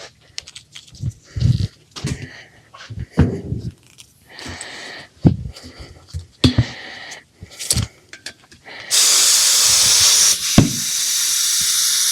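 A bottle sprays regular soapy water onto a tire on a 2010–2015 Toyota Prius, short hissing bursts near the end after scattered handling noises and talk.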